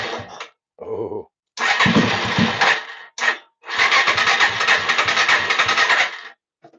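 A 2005-or-later Yamaha TTR-230 motorcycle cranks on its electric starter in several bursts, the engine sputtering and nearly catching between short pauses, loud and close with no talking.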